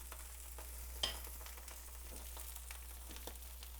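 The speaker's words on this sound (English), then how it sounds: "we're going to go over to our preheated stovetop, and we're going to sear them" Blackened, spice-coated salmon fillets searing on a preheated stovetop, giving a soft continuous sizzle with faint scrapes and one sharp tap, fairly quiet and with no talking.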